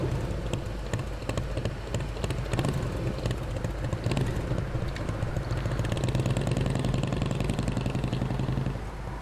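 A 2000 Indian Chief motorcycle idles and runs with a choke pulled, a continuous rumbling, pulsing engine note heard fairly close, steady throughout, with a faint rising rev near the end and no talking.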